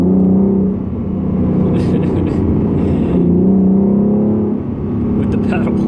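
A Ford Mustang 3.7L V6 engine revs hard in surges on a dyno, its deep rumble rising and dropping twice, loud and close, with a voice speaking briefly.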